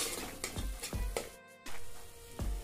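Cumin and coriander powder stirred into a hot pan for a dhaba-style kali masoor dal, a spoon scraping in short rhythmic strokes over soft sizzling, close and fairly quiet.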